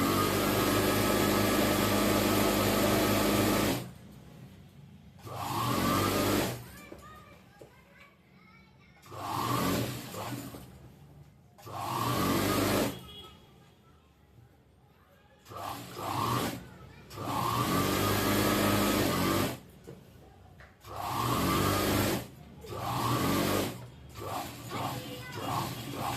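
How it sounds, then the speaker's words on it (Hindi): A sewing machine running a second line of stitching over an existing seam on a salwar, whirring in repeated bursts of a few seconds each with short pauses between, loud and close. "अब जो सिलाई लगी हुई है उसी के अकॉर्डिंग उसके ऊपर दूसरी सिलाई लगानी है।"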